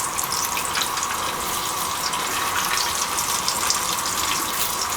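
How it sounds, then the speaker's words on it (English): Soutzoukia sausages frying in a pan give off a steady, dense hiss of sizzling fat, close and continuous with no pauses, with no voices over it. "So now I'm taking Soutzoukia and put it on a fry pan."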